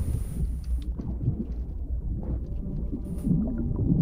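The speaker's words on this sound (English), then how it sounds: "Just heard a cannon." Distant cannon fire in the Sea of Thieves video game rolls out as low muffled booms and rumbles over quiet ambient sea noise, soft and far off.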